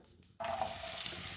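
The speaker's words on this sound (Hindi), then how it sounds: "प्याज को 1 मिनट के लिए पका लेंगे।" Onions dropped into hot oil in a pan, a sudden burst of bright sizzling that starts abruptly and continues steadily, close and fairly quiet.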